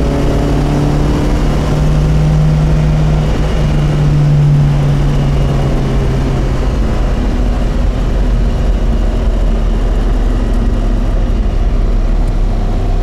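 A 1967 Alfa Romeo Giulia Sprint GT pulling in third gear, its engine a continuous loud, low droning hum with steady road rumble from inside the car, no talking.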